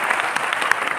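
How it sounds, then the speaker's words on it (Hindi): An audience applauds a woman lecturer at an Ayurveda talk, a steady wash of clapping from many hands with a few sharper close claps standing out, filling the whole moment without speech. "सबसे पहले तो मैं निवेदन करता हूँ कि रश्मि मैडम के लिए जोरदार ताली बजाई जाएगा"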